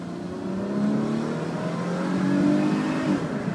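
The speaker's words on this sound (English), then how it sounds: "Here, I'll give it some gas." Engine of a 2002 Chrysler Sebring Limited revving under throttle, a steady, moderately loud rising and falling drone heard close up without talk.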